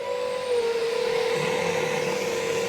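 A vacuum cleaner hoovers a 1960 Audion Emenee Duette chord organ, giving a steady loud droning whine with a sustained reedy tone that shifts slightly in pitch, close up and with no talking.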